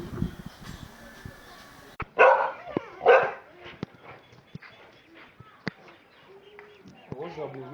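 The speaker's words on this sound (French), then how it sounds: "Jack, bon chien, regarde." A dog named Jack, one of the breed dogs offered for sale, lets out two sharp, loud barks close by, followed by quieter clicks, whimpers and yips while a person talks nearby.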